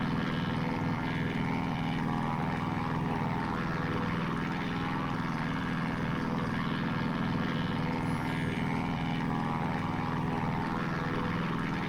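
Steady, loud drone of a Christen Eagle II propeller plane engine in the DCS flight simulator, a constant buzzing hum that holds unchanged throughout with no pauses.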